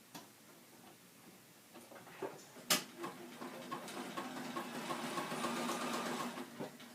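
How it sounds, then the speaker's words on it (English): A sewing machine stitching an appliqué onto background fabric with a quarter-inch foot, a steady close mechanical ticking and whirring that grows slightly louder and denser as it runs. "You're going to start stitching one thread, or the needle goes off onto your background and then goes on to your applique."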